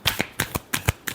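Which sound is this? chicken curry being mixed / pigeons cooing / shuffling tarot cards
shuffling tarot cards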